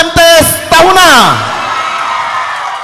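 Audience greets the MTS Negeri 1 Kepulauan Sangihe group at a hadra competition in Sangihe with two loud whooping shouts and a falling yell, then fades into a softer crowd murmur.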